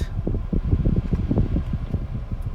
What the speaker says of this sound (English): That's my AC, because it's hot.